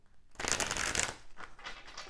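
Tarot cards are shuffled in a quick, close burst of riffling and flicking that lasts about a second before trailing off into softer card sounds.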